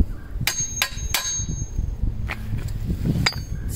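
A hammer lightly taps a metal fence post set in concrete, giving about five sharp, ringing metallic strikes at irregular intervals, close and fairly loud over a low background rumble.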